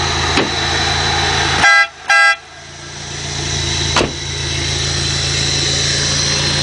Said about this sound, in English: If you hear the horns, they're a lot better than the factory horn was.